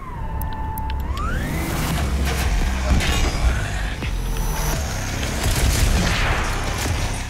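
Game gunfire and mechanical clanks from Doom Eternal, Mission 3, mixed with a sweeping tone and dense, loud combat noise running continuously throughout.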